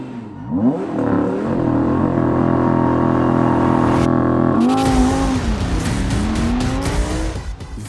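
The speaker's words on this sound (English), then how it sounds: "This is the Audi R8 V10 Performance Quattro." An Audi R8 V10 Performance Quattro driven hard, its engine revving up and down loudly and close while the tyres squeal through a turn, with a sharp shift in pitch midway and no voices.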